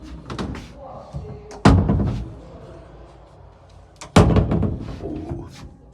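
A 1960s Vaim elevator door in a Rome building, pulled open by its handle, giving two loud metallic slams or clunks a few seconds apart, with a person talking softly before them.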